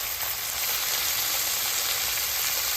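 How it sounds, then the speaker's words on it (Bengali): Onion and dried red chilli sizzling and frying in a pan while being stirred, a steady, even hiss holding at the same level throughout. "শুকনো লঙ্কা দিয়ে পেঁয়াজ দিয়ে নাড়াচ্ছি"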